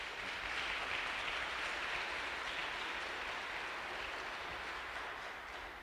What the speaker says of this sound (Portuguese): mais uma salva de palmas para Jesus